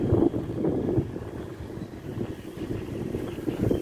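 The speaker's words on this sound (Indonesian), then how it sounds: "Anginnya besar." Strong wind buffets the microphone outdoors at a house in Arabia, a loud rumbling low roar that surges and eases in gusts throughout, with no talk.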